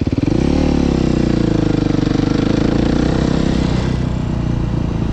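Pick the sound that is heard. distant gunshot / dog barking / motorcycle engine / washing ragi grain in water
motorcycle engine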